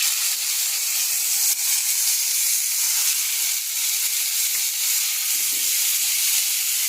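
Bitter gourd roasting on a hot chapati griddle stone gives a steady, bright sizzle and hiss with small crackles scattered through it, holding an even level from start to finish.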